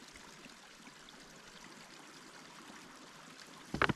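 Clean water trickles steadily from a Sawyer filter on a 1-liter bottle into a hydration bladder during winter camping in the New Hampshire wilderness, a soft continuous dribble with a brief louder handling clatter at the end.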